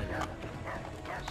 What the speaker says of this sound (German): Der Hund ist, glaube ich, böse gegen uns